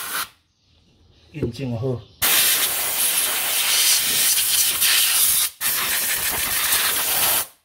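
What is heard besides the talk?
spraying cleaner on old Honda Dio brake master cylinder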